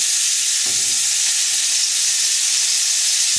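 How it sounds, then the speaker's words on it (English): Hamburger patties fry in hot oil in a hot pan, a loud, continuous close-up sizzle with a couple of soft thuds or pan knocks underneath. "We're going to put them in this pan with, it's a hot pan, hot oil"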